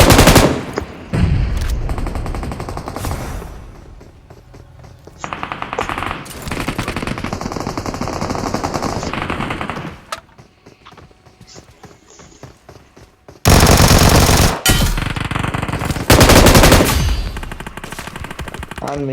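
Machine gun fire in the BGMI battle royale game: loud rapid bursts rattle out repeatedly, broken by quieter gaps and a few single shots.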